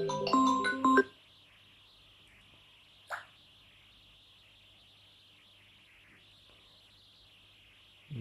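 A phone ringtone bursts out loudly during an Arabic-language math lesson on logarithms, a short tonal melody lasting about a second, followed later by a brief faint blip over quiet room hiss.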